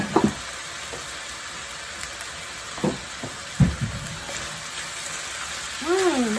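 Cooking wine poured into a hot pan while making Indonesian-style chicken noodles, a steady hiss of sizzling with a few louder spits and pops and a faint voice near the end.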